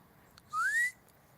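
A single rising whistle from a person outdoors at night in a backyard, one smooth upward-gliding tone lasting about half a second, clear and fairly close against a quiet background.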